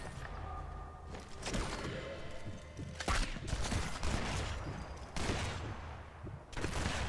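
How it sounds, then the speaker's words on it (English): Gunfire from a plaza in Sniper Elite 4 crackles in dense volleys of rapid shots, with heavy thuds and impacts throughout, loud and sustained with brief lulls. "We're also being shot at from the plaza."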